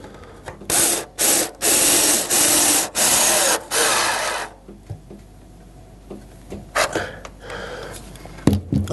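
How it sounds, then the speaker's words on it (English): Ratchet tightening a nut on a Bosch washing machine heating element, a series of loud rasping ratchet strokes in regular bursts, then quieter clicks and a few sharp knocks. "just need to tighten up that nut"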